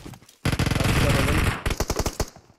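Automatic gunfire in a PUBG Mobile firefight, with an M249 light machine gun in play. One long, loud, dense burst of rapid shots fills the middle of the clip and is followed by a choppier string of separate shots.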